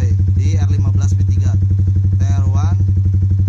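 Yamaha R15 V3 motorcycle fitted with a short Pauliner TR1 Black exhaust idling close up, a loud steady low throb with rapid even pulses, while someone talks over it.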